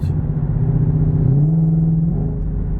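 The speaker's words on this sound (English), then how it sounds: "right now you'd be hearing this exhaust" A Ford GT500's engine rumbles steadily up close, its low exhaust note rising briefly in a short rev before settling back to a smooth idle.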